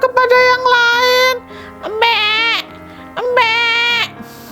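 A goat bleats loudly three times in a long wavering, quavering cry, each call clear and close with brief pauses between, in a children's animated story with a goat resting under an apple tree.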